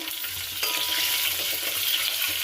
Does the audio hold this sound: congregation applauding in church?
no